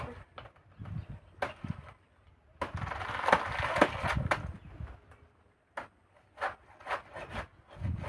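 A banana tree trunk is cut from the inside with a blade, giving irregular bursts of rough, fibrous rubbing and scraping strokes separated by short pauses.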